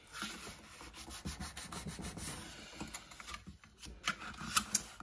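Fine sandpaper, around 100 to 120 grit, rubs back and forth in quick, quiet strokes during a craft project. The scratchy passes come in an irregular rhythm and fade in and out close by.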